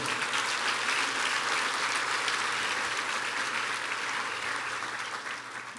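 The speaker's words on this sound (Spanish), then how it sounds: "Vamos a darle un aplauso fuerte al Señor." A church congregation breaks into loud, sustained applause, a thick, even roar of many hands clapping that fades slightly toward the end.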